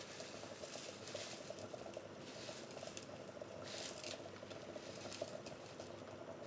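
A pan of water heats toward the boil, giving a quiet, steady hiss with soft patter and faint bubbling throughout.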